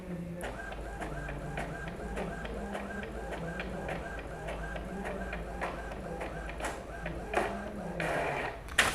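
POS billing receipt printer printing a bill, a steady mechanical whir with rapid repeated clicks, quiet and close, and a voice talking over it.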